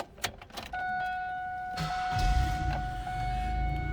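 A 2002 Pontiac Grand Prix GTP 40th Anniversary starts up: after key clicks and a steady dash chime, the engine cranks and catches into a low, continuous idle close by.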